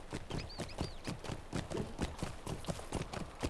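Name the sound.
horse hooves clip-clopping in video game Lord of the Rings Online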